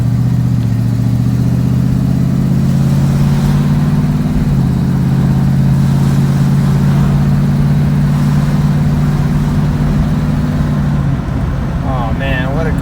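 A 1965 Ford Mustang Coupe rolls down the road, its engine droning steadily and loudly throughout with a low, continuous hum that shifts pitch once as it changes speed, with no talk over it.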